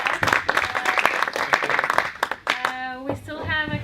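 An audience gives brisk, close applause for guest speakers after a talk on influencers, sharp claps for a couple of seconds before a voice takes over.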